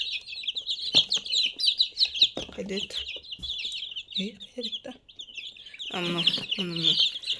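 Steady high peeping of chicks, one of them sickly, fills the clip, with short spoken remarks mixed in and a louder burst of chirping near the end.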